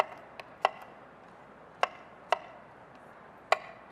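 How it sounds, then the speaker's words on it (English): A knife chops through mango into chunks on a cutting board, giving five sharp, well-spaced knocks, quiet and close, with no talking. "I'm just going to cut my mango into chunks."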